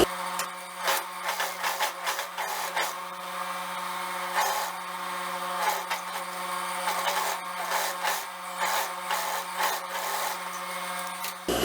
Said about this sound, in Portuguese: Agora eu vou vir aqui passando um pesponto rente